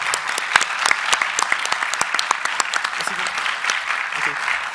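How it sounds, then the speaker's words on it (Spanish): An audience at a university democratic-exercise event applauds with steady, dense clapping that fills the room at an even level for several seconds. "Un aplauso, por favor."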